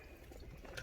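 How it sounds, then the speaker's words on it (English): Pasta sauce bubbling and simmering in a pan for homemade ravioli, a soft, steady low burble of small pops close by with no voices. "You can see it bubbling"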